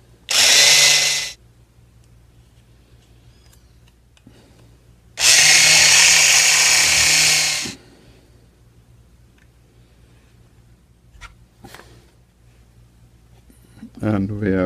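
A power drill whirs in two loud bursts, a short one and then a longer one, separated by quiet handling noises and small clicks, drilling holes in a model ship's aft cant frames.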